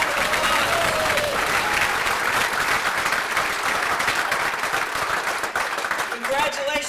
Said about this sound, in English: let's recognize them all one more time with a rousing round of applause